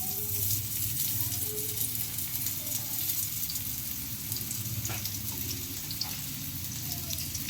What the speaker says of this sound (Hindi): जो हमने वो काटे थे ग्रीन अनियंस वो ले लेनी है और थोड़े से उसका वाइट हिस्सा हमने इसके अंदर डाल लेना